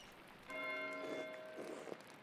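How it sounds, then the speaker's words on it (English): A church bell rings in the medieval-abbey video game Pentiment, a sustained ringing tone that starts after a brief pause, moderately loud and reverberant, with no talking over it. "Why is Matteo ringing the bell?"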